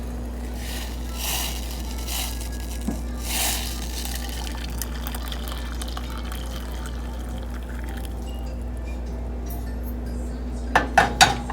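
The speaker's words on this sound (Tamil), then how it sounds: "சுவிட்ச் ஆஃப் பண்ணிவிட்டு அதை ஒரு கிளாஸில் வடிகட்டி வச்சுக்கோங்க." Boiled cumin water strained into a glass in a home kitchen, a low steady pouring trickle over a constant hum, with a couple of soft knocks and then a quick cluster of clinks of metal against glass at the end.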